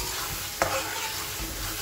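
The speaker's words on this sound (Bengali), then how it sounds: "এখানে দিয়ে দিয়েছি পেঁয়াজ, টমেটো, লঙ্কার এই পেস্টটা দিয়ে দিয়েছি, জিরে ধনে বাটার, হলুদ গুঁড়ো। এবার সুন্দর করে কষিয়ে নেওয়ার পালা।" Onion, tomato and chili paste with ground cumin, coriander and turmeric sautéing in a pan, a steady close sizzle broken by one sharp scrape of a stirring spoon partway through, with no voices.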